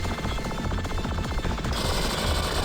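Rapid homing shot weapon fire in the Blaze of Storm shooter, a dense, steady stream of machine-gun-like bursts that continues without a break for several seconds.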